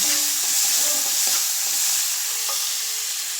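Tomatoes frying for a sweet and sour dish, a steady hissing sizzle with light stirring scrapes and taps close by.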